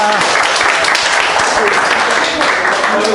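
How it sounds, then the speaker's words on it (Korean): Seminar audience claps for the presenter at the close of a session, a loud, dense and continuous round of applause with voices mixed in underneath. "오늘 수고해주신 이효정 대표님한테 박수 한번 주세요"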